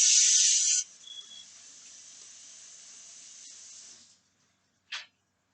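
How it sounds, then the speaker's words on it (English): Tap water gushes loudly for a moment while a hand is rinsed, then settles to a steady thinner stream that runs for a few seconds before cutting off, followed by one brief splash. "Let me rinse my hand off."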